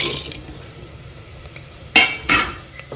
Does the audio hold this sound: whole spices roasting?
yes